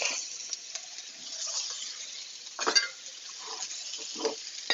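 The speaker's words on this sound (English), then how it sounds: "now we're just going to fry off our onion, our garlic" Onion and garlic frying in a pan as the base for lamb shanks, a soft steady sizzle broken by a few louder bursts as the pieces are stirred, close and without talk.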